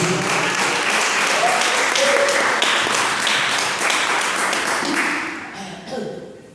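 A church congregation applauds during a family worship service, a steady wash of clapping that fills the whole stretch and fades slightly near the end, with voices mixed underneath.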